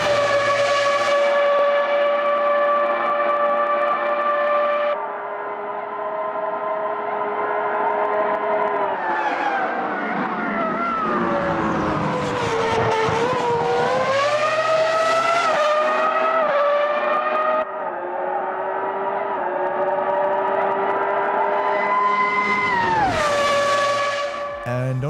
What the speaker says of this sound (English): V10 F1 Flyby is just that much more hair-raising